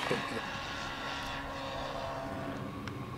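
An FF Demon concept foam RC plane with a small 3S electric motor flies by as a faint, steady, distant whine over outdoor background noise.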